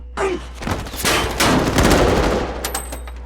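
A movie shootout between police and robbers erupts in dense, overlapping gunfire: rapid bursts of shots and booms layered over a low rumble, with a brief voice near the start.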